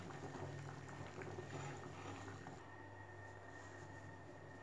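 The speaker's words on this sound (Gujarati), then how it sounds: "પાણી એકદમ ઉછાળા વાળવા લાગ્યું છે" Water boiling vigorously in a pot with baati, a steady close bubbling roar with dense small pops, slightly quieter toward the end, no voices.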